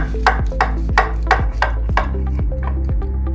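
A knife cuts through a slice of baked pasta with béchamel sauce and melted kaşar cheese, about eight crisp, evenly spaced strokes against a tray or board, close and clear.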